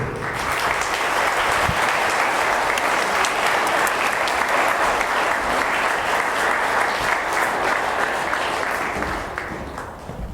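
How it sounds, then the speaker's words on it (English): Audience applause welcoming performers at a faculty concert, a dense, sustained round of clapping filling the room throughout before tapering at the end. "please welcome Mrs. Van Squick and Miss Marase"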